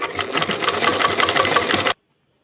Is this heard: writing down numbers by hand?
no